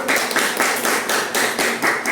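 Students in a classroom clap together in a rhythmic pattern of evenly spaced bursts, close and fairly loud, with no talking over it.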